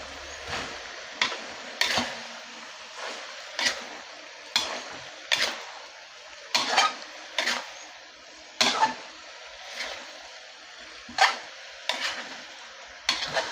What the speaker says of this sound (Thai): จะคนให้เข้ากันครับ